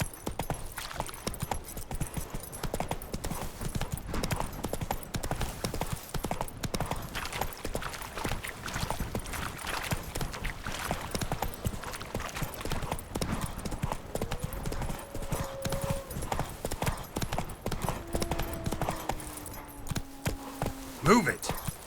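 Horse hooves clip-clop at a steady gallop rhythm while riding in the video game The Witcher 3, with a constant drumming of the hooves throughout and a voice speaking briefly over it.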